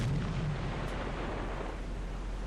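Deep, rumbling explosion on a ship in the submarine game Silent Hunter IV, a continuous heavy roar filling the short stretch without talk.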